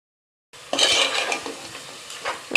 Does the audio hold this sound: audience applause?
no